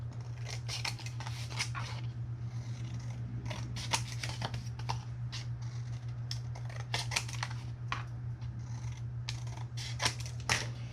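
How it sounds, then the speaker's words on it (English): Repeated crisp snips of scissors miter-cutting folded paper for a custom skinny notepad, close by, in an uneven rhythm over a steady low electrical hum. "Then I'll use my scissors to miter cut."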